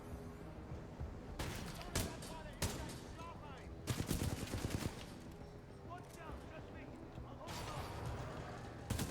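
Gunfire in Titanfall 2 played on a Steam Deck: loud, dense bursts of rapid shots and impacts crackle over a constant roar of in-game ambience and explosions.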